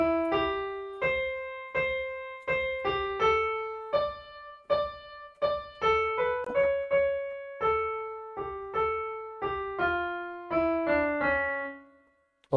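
A keyboard plays the Ganesh Aarti melody "Ek Dantay Vakra-tundaya" from bar 13 onwards. Clear single notes sound alone at a steady, moderate pace, and the last note fades out.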